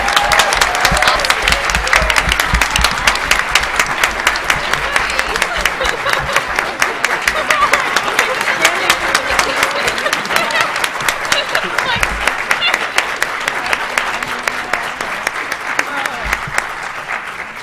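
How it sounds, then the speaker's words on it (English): An audience applauds panelists after an education panel discussion with alumni teachers, a sustained dense burst of clapping from a room-sized crowd that holds steady for many seconds. "Let's give all of our panelists a round of applause."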